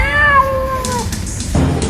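A cat aboard a long-distance passenger train gives a clear, close meow that slides downward over about a second, followed by quieter cabin rumble and shuffling.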